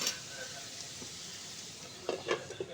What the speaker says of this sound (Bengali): এভাবে নেড়ে চেড়ে উল্টে পাল্টে ভালো করে ভেজে নেব।